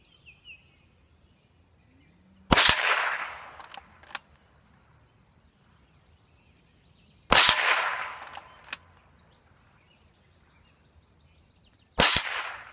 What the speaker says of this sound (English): Let's get that lever action out and give it a shot.